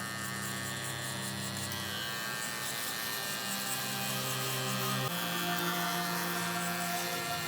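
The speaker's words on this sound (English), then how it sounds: "I'm gonna take all this excess hair off with my trimmer" Babyliss electric hair trimmer buzzing close up while cutting hair, a steady high-pitched motorized hum that shifts slightly in pitch as the blade moves through the hair.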